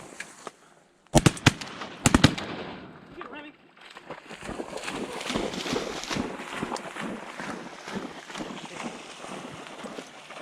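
Shotgun shots fired at ducks on a public land duck hunt, a quick volley of several sharp, fairly close bangs early on, followed by hunters talking over outdoor noise.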